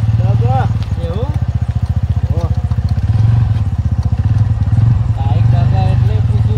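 A motorcycle engine runs steadily close by on a farm, its low rumble continuous throughout while people talk over it.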